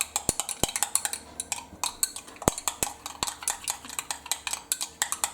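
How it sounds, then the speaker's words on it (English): Mustard being stirred into a wet mixture in a bowl, a quick irregular run of close clinks and scrapes from a utensil against the dish, carrying on steadily without any talk. "Stir those together."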